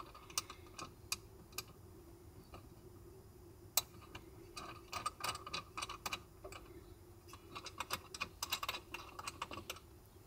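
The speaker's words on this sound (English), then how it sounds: "I'm simply screwing them back in." Small irregular clicks and ticks from screws being driven back into a ceiling light fixture's mounting bracket, close and fairly quiet, coming in quick clusters with no talking.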